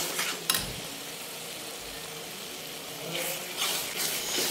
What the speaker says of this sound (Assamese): পানীখিনি দিও মছলাখিনি বহুত ভুনিম, কমেও পাঁচ মিনিটমান এনেকৈ ভুনি থাকিম